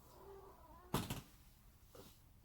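A pet cat roams indoors, making a brief loud thump and rustle near the middle followed by a softer bump a second later, against quiet room noise.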